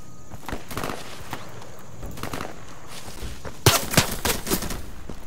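Gunfire in the Insurgency video game: scattered bursts of shots, some sharp and close, with a louder cluster of rapid reports near the end, amid other battlefield noise.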